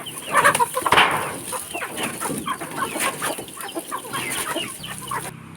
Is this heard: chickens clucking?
yes